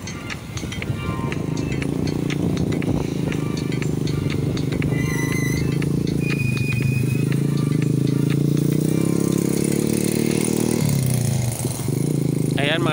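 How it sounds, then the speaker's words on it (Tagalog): A motorcycle carrying two riders drones steadily on a coastal town road, with road rumble and rattles, and people's voices intermittently heard over the motor. "Nakasingle po tayong motor ngayon,"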